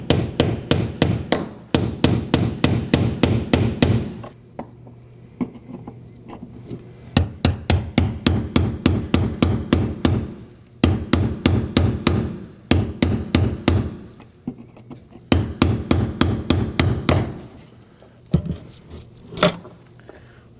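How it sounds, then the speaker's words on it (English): Hammer and chisel strike the lock ring tabs of a fuel pump module on a 2015-2023 Nissan Maxima 3.5L V6, in rapid rhythmic bursts of sharp metallic taps, close and loud, with short pauses between the bursts. "I'll be striking along these tabs with a hammer and chisel"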